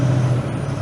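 A big truck idles close by at a four-way stop on a Route 11 detour, a steady low diesel rumble throughout with a slight dip partway through.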